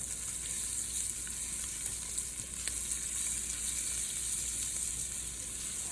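Grated garlic, four or five cloves, hits hot oil in a soup pot and sizzles steadily with a bright continuous hiss, close and fairly loud, with no talking over it.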